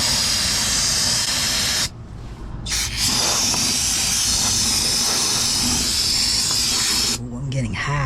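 Brake cleaner sprays in long, loud, close hissing bursts during work on a Chevy S-10's brakes, broken by short pauses between bursts, with some talking over it.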